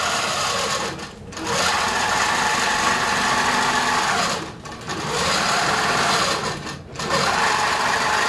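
A King Quilter II quilting machine stitches a crosshatch pattern, its steady, fast, loud motor-driven hum running continuously with three brief dips as the needle pauses.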